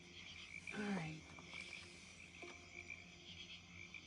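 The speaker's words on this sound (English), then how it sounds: "Yes, you hear crickets. Don't they sound cool?" Outdoor night chorus of croaking frogs and chirping crickets: a steady high insect trill runs throughout, with a louder burst of low croaks near the start and a few fainter calls afterward, no talking.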